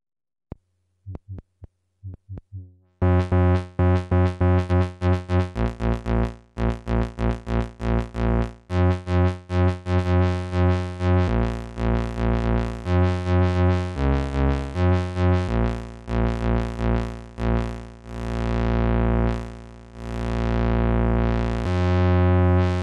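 Eurorack synthesizer voice whose filter is swept by an inverted ADSR envelope while the VCA follows a normal envelope, playing a run of buzzy pitched notes that start as short plucks and grow into longer swelling tones, heard alone.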